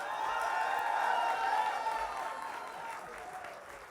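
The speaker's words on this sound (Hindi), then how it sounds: "जोरदार तालियों से स्वागत करिए" A talk-show audience applauds to welcome actor Piyush Mishra, a dense wash of clapping that holds steady and then gradually fades slightly toward the end.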